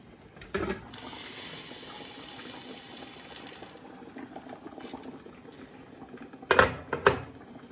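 Steady watery hiss and bubbling of water at a boil in a pressure canner, continuous and moderate, with a couple of brief clinks near the end.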